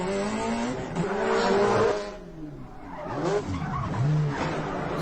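A car drifting on tarmac at the Port of Los Angeles, its engine revving and tires squealing and skidding in long wavering screeches, loud and close, with pitch sweeping up and down as it slides through its lines.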